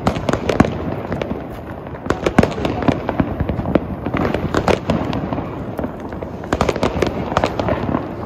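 Firecrackers go off in rapid, overlapping cracks and pops during a Diwali celebration, a dense, loud crackling barrage that runs throughout.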